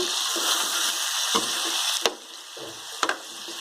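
Tomatoes frying in a pan for village-style bitter gourd fry make a steady close sizzle, punctuated by a few sharp spatula knocks and scrapes against the pan, and no one speaks.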